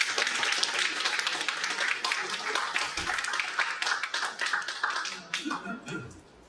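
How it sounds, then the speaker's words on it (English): Audience applause for a guest speaker at a talk on Jewish history in South Florida, a dense steady wash of many hands clapping that thins out toward the end, with some voices mixed in. "please let's give him a round of applause."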